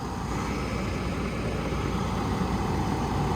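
A truck engine idling nearby, giving a steady, loud, low rumble with an even drone and no talk over it.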